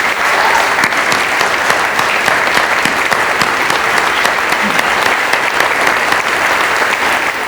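A standing audience applauds two gentlemen at a Hall of Fame open discussion, a dense, loud, sustained wash of clapping that carries on evenly without pause.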